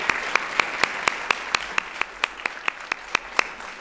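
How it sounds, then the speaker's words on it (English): A round of applause at a fashion education workshop, crowd clapping under a sharp, evenly spaced rhythmic clap or beat, about four per second, standing out above the wash. "Let's give them all a round of applause."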